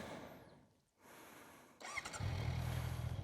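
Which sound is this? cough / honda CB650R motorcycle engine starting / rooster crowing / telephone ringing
honda CB650R motorcycle engine starting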